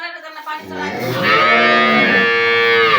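A cow or calf kept indoors in a shed on a cold day lets out one loud, sustained, drawn-out moo that begins after a short silence and carries on to the end, close and strong.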